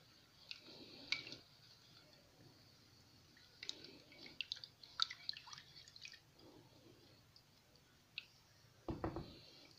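Three cups of milk with lemon juice, black pepper and salt stirred in a bowl: quiet, scattered spoon clinks and soft liquid drips, with a slightly louder splash near the end and no talking.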